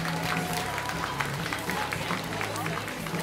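Audience applause for a band at the Werbel 2016 awards, a steady wash of clapping from a large crowd with some murmuring mixed in, continuous through the moment.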